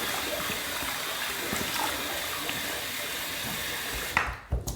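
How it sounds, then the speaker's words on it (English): Tap water runs steadily into a sink while a face is wetted before shaving with a boar-bristle brush, a constant close hiss and splash that stops abruptly near the end with a few small drips and knocks. "Now we're gonna wet the face a little more."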